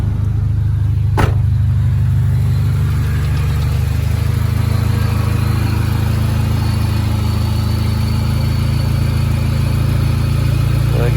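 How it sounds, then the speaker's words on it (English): A 1995 Honda Civic running with its A/C compressor engaged gives a loud, steady engine and compressor hum throughout, with one sharp click near the start. "I heard the compressor kick on"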